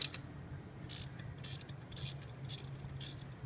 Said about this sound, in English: Have a ratchet wrench so it makes it a little easier to work with there.